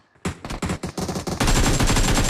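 AKM rifle fire in a competitive video game match: a few sharp separate shots, then rapid bursts of automatic fire that merge into a dense, loud stream toward the end.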